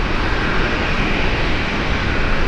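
A Korean Air airliner at Brisbane International Airport gives a loud, steady jet engine roar that holds unbroken throughout.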